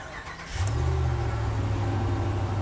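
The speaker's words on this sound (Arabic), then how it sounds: "اسمعوا معايا صوت المحرك وهو بيدور." A new Dodge Ram pickup truck engine turns over and settles into a steady, loud, low rumble that continues without a break.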